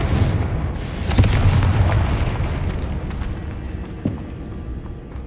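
A Confringo blast spell explodes in Hogwarts Legacy: a loud, deep boom with a rumbling tail that swells again briefly and fades over several seconds, heard alone.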